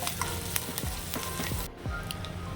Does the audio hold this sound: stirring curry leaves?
yes